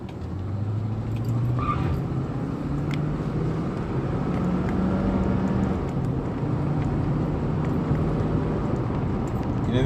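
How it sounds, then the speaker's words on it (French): A Lincoln car pulls away and drives along small country roads: a steady, fairly loud engine drone inside the car, with its pitch rising and shifting as it accelerates. "Hop, petit démarrage, on va mieux entendre le moteur là, vous allez voir."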